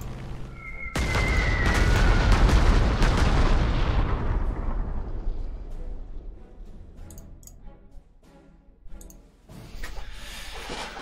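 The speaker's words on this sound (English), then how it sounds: "they've got a wall of artillery" Artillery fire rolls through a World War II strategy game set at Stalingrad: a heavy opening boom swells into a long, rumbling barrage that slowly fades, followed by a few scattered later blasts.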